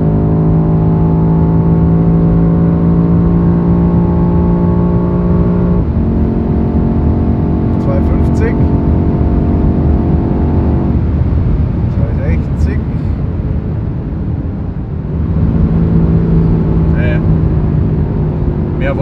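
A 625 hp BMW X5M Competition SUV pulling hard at around 200 km/h, its engine droning loud and steady with harmonic whine, pitch stepping as gears change, under wind noise with occasional talk over it.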